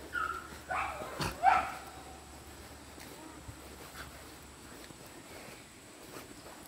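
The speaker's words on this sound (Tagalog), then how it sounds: "Ang dami pala nilang aso dito." A few dog barks and yips early on, then quieter outdoor background with faint distant noises, at a campsite at Tagpuang Batis on Mt Parawagan, Rodriguez, Rizal.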